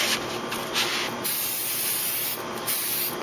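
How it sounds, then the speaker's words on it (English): A steady aerosol hiss sprays in short and long bursts onto a Big Green Egg Nomex gasket, close by and loud, with a faint high whine running underneath. "We're going to spray it there. And here."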